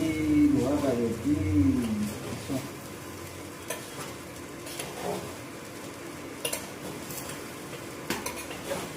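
A kadai pan is washed at a kitchen sink: metal scrapes and clatters with splashing water, steady then sporadic knocks, and a voice is heard briefly near the start.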